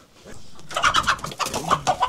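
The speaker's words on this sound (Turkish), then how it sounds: "Peki şimdi bu tavuk burada yatıyor ya." A hen clucks in a rural yard shaded by walnut trees, giving a burst of rapid, choppy clucks and short squawks, close and fairly loud, with no talking.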